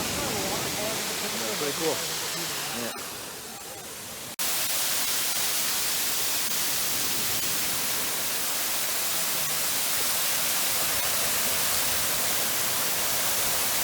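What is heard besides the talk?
waterfall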